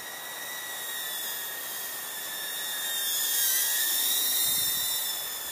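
JJRC H30 mini quadcopter drone flying nearby, a steady high-pitched whine of tiny propellers that rises and falls slightly in pitch as it maneuvers, swelling louder midway, with no voices.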